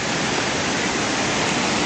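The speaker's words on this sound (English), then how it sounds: "The creek is definitely flowing at twice its usual capacity." A hot-spring-fed creek running at twice its usual volume after a day and a half of steady rain gives off a loud, unbroken rushing roar, close by and steady throughout with no voices.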